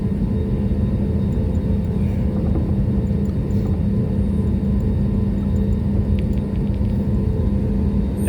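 Inside a SriLankan Airlines jet taxiing toward the runway at Cochin airport, a loud, steady engine rumble and whir fill the cabin without a break.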